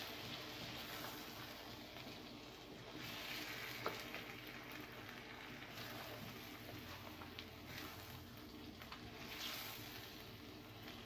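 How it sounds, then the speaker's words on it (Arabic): Tomato cubes and mixed vegetables sautéing in a pan, giving a faint, steady crackling sizzle with occasional soft stirring ticks throughout. "هديها تشويحه بس كده على الماشي"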